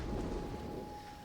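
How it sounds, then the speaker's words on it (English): Artillery fire raining down on troops in the strategy game Total War: Rome 2, a dense, rumbling wash of distant impacts and low booms, loud and continuous. "my artillery's raining down on them"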